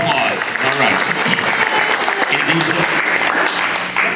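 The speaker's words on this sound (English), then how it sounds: "A round of applause." Sustained audience applause fills a community gathering for Portuguese Immigrant Week in San Leandro, a steady dense wash of clapping from a crowd, loud and continuous throughout, with faint voices mixed underneath.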